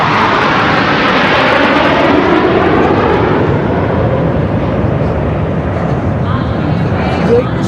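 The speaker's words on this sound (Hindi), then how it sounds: "ये वही तेजस विमान है which our cameras are now going to catch for you" Tejas fighter jet flying over a Republic Day parade, a loud continuous roaring jet engine that swells and slowly fades, with crowd and commentary noise beneath.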